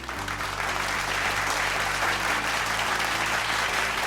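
An audience applauds at the Jakarta Investment Festival Summit 2024, a dense, steady burst of clapping from a large crowd filling the hall, alone without speech.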